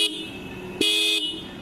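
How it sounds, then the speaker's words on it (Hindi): A Yamaha R15 V4 motorcycle's horn sounds at close range: a steady loud tone that briefly swells into a sharper blast. "एक बार अगर हम हॉर्न को आपको बजा के दिखाने की कोशिश करें"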